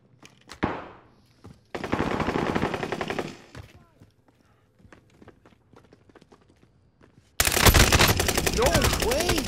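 Gunfire in the Call of Duty Warzone video game comes as two loud, sustained bursts of rapid automatic shots separated by a stretch of sparse clicks and footsteps.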